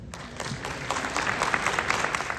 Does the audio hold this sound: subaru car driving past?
no